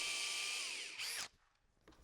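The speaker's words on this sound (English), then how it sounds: "And I'm going to drill this straight." A power drill bores a 1-inch deep hole into plywood in a woodworking shop, a steady high whine that bogs down slightly, then stops abruptly, leaving a quiet tail with faint handling sounds.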